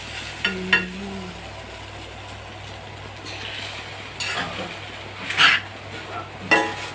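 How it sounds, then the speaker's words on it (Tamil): Semiya being stirred with onion and green chili in a pan, giving soft intermittent scraping and clinking strokes over a low steady background hum, with a few louder knocks toward the end. "இப்போ நம்ம சேமியாவும் ஆனியன் பச்சை மிளகாய் எல்லாமே சேர்த்து நல்லா கலரி விட்டுடலாம் ஃப்ரெண்ட்ஸ்"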